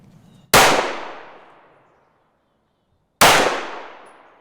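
Two sharp, loud shots from a compact handgun firing 124-grain Hornady Critical Defense rounds, spaced about three seconds apart, each with a long ringing decay outdoors.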